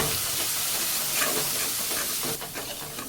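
Tandoori masala, garam masala and a little red chilli powder being stirred in a hot pan for a street-style potato frankie filling, a steady close sizzle with soft scraping throughout and no voices.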